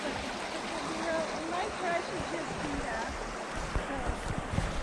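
A creek flows outdoors in Park City during a plein air watercolor workshop, a continuous rushing babble close by with occasional louder splashes.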